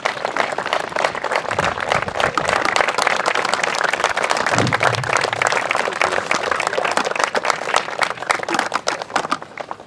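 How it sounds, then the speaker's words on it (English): A crowd at a 2013 commencement ceremony applauds steadily, with dense, sustained clapping for the graduating seniors' parents lasting the whole stretch. "give your folks a round of applause"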